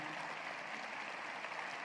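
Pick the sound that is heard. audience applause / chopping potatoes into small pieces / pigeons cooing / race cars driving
audience applause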